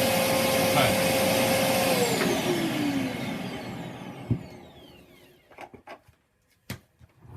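A Hoover DW1210 Turbo Power vacuum cleaner runs loud and steady with a high whine, then is switched off and its motor pitch sinks as it spins down, followed by a few close clunks and knocks as a voice speaks over it.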